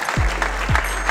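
Audience applause at an e-health awards event greeting young inventor François Carbonel, a steady broadband clatter of clapping throughout, with low thumps cutting through twice.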